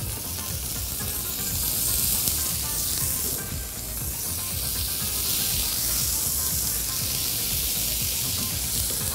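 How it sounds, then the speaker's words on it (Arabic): Seasoned shrimp sizzle loudly and continuously over a fire on the grill, a dense close-up hiss with no voices. "وانا سايبه الجمبري دلوقتي على النار خلاص قرب يستوي"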